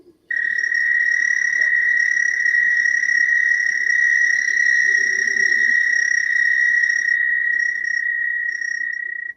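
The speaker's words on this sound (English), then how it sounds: "So that's the American toad." An American toad's recorded call: one long, high, steady musical trill held for about nine seconds, loud and clear against a quiet background, cutting off abruptly.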